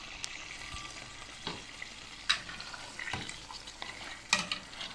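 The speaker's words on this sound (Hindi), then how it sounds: "अब हम इसे अच्छे से मिक्स करेंगे।" Onion and chicken being stirred in a hot pan while cooking for baati chicken: steady sizzling and frying with occasional scraping clinks of the spoon, close up, no speech.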